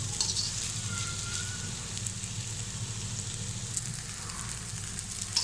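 Vermicelli chicken chow mein fries over high heat, a steady close sizzle and crackle with faint stirring, continuous and even with no voices.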